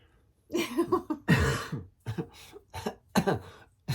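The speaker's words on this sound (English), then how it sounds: "Talking about smoke makes me cough." Several sharp, harsh coughs in quick bursts with short pauses between, close and fairly loud, a throat-clearing quality to some.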